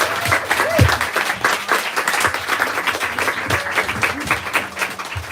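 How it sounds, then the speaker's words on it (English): A steady round of applause from an audience at a literary reading, with dense clapping throughout and a few voices murmuring underneath. "Let's give these two one round of applause."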